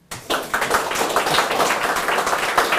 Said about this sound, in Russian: Аплодисменты.